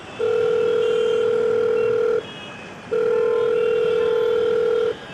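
A phone call rings out in an audio drama: two long, steady electronic ringback tones, each about two seconds, separated by a short pause, clear and close with no talking.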